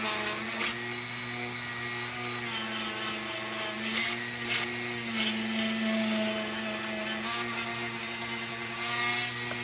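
Worn drill bit grinding into metal on a Lisk Pony CB lantern under restoration, a steady whining, scraping drone with uneven bursts of harsher rasping, fairly quiet and without speech.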